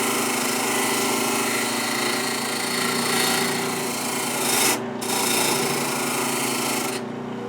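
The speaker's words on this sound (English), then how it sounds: "It's taking the surface rust off." A metal part being scrubbed to remove surface rust makes a loud, continuous abrasive rubbing that runs almost unbroken, with two brief pauses.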